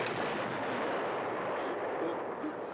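A dense, continuous roar of artillery shelling from a war film, heavy booms blurred into one loud wall of noise with no break.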